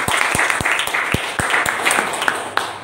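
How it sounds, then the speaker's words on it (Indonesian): A church congregation applauds a group of young people during a Sunday service, with continuous crowd clapping filling the room and individual claps popping out at a brisk pace. "kita kasih aplaus dulu, kita kasih tepuk tangan dulu buat anak muda tadi"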